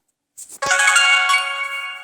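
Opening jingle of the Brawl Stars mobile game: a brief bright chime, then a sustained ringing electronic chord that holds and slowly fades, heard alone and clearly.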